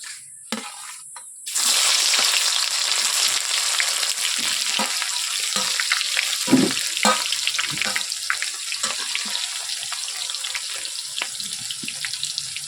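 Onions hit hot oil already seasoned with two bay leaves and two small cardamom pods, bursting into a loud, steady sizzle after a brief quiet start, with occasional stirring scrapes, close up and with no talk.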